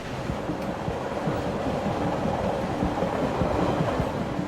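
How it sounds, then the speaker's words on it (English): Via Rail's Supercontinental passenger train number 4 cruises through the Canadian Rockies toward Edmonton, Alberta, in a steady, loud rolling rumble with a continuous rhythmic clatter of wheels over the rails. "Via Rail's supercontinental passenger train number 4 is cruising toward Edmonton, Alberta."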